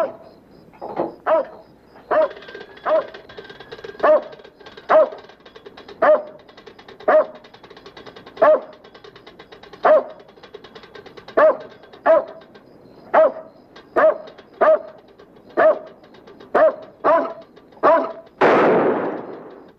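A dog barks in a steady series of about twenty sharp, evenly spaced barks, fairly close and loud, ending in a harsher noisy burst. The scene is from a 1953 film.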